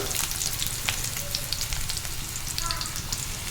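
Chopped large onions dropped into hot sesame oil for a homemade masala pasta, frying with a loud, steady, dense sizzle and crackle that runs without a break, with no talk over it.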